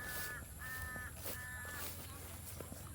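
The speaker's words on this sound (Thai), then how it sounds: "โอ้โห อีกา เห็นกล้องมา มันไม่ชอบกล้องเลย" A crow cawing outdoors near fishing ponds, three harsh drawn-out calls in a row at moderate distance, faint over a steady background hiss.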